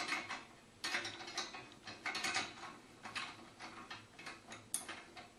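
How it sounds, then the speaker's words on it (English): A ratchet wrench tightens bolts while a Guide Gear ladder tree stand is assembled, a rapid run of close, crisp ratcheting clicks in uneven bursts with no talk. "I just went and got the ratchet wrench"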